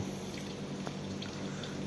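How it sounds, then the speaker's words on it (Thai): Water runs from a leaking water pipe beneath a house floor, a soft, continuous hiss and trickle heard faintly and steadily throughout. "มันมีเสียงน้ำไหลครับ ตรงนี้มีเสียงน้ำไหล น่าจะมีท่อน้ำด้วย"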